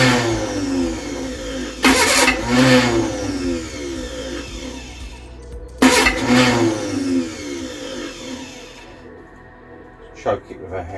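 Rebuilt Reliant Supervan engine cranks twice, each start a loud burst of starter whirr catching into a rough, uneven idle that fades, with a brief knock near the end.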